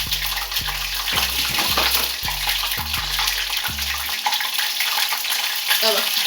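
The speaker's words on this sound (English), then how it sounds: "the chicken is like it's boiling." Chicken boiling in a pot, liquid bubbling and sizzling, with a run of rhythmic low thumps that stop partway through, leaving a steady hiss.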